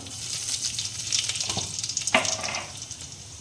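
Cumin seeds sizzling in a small amount of hot mustard oil, a bright, close crackling hiss with sharp spits and pops over a few seconds.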